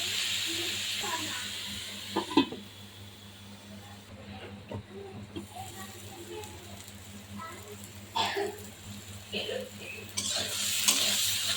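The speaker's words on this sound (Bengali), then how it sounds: "এখন ভালোভাবে নেড়ে চেড়ে একদম ভাজা ভাজা করে নিতে হবে।" Water lily stems fry in a pan, giving a steady close sizzle and hiss, with occasional scraping clatters as they are stirred.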